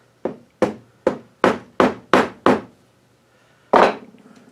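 Seven sharp, evenly spaced blows from a mallet striking a cherry wood frame, loud and close, followed after a pause by one heavier thud with a short ringing tail; no one speaks.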